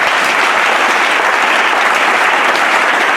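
A church congregation breaks into loud, continuous applause to acclaim the Lord, a thick wash of many hands clapping at once that stays steady and close from start to finish, with no voices over it.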